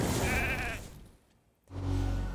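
A sheep bleats in the video game RAID: Shadow Legends, two loud wavering cries separated by a brief near-silent gap, over dense game music and effects.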